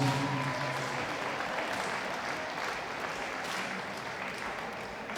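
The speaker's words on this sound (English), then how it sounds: "another big round of applause to show your appreciation for all the officials" Sustained applause from a large crowd at an amateur boxing finals event, steady and fairly distant, with no voices standing out.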